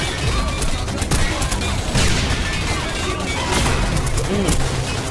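Loud, continuous gunfire in the video game Singularity, with rapid shots and crashing impacts, fills the mix throughout.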